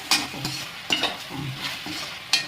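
Chicken gravy is stirred in a pan with a spoon. The sizzling scrapes come in quick strokes, roughly four or five in two and a half seconds, each one bright and close.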